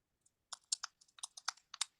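Someone types on a computer keyboard: about a dozen quiet, crisp keystrokes in irregular clusters, alone in an otherwise silent room.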